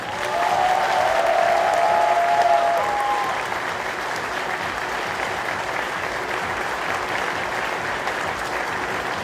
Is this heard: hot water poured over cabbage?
no